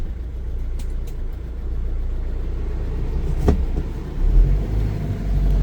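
A Nissan Atlas 150 diesel truck drives and turns in two-wheel drive, its low engine rumble steady at first and then swelling louder in the final seconds, with a few faint clicks and knocks in the cab.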